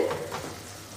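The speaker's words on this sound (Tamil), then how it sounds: "நல்லா பச்சை வாசனை போகிற அளவுக்கு வதக்கி விட்டுக்கலாம்" Masala sautés in a pan for mushroom gravy, a brief soft sizzle with a stir near the start.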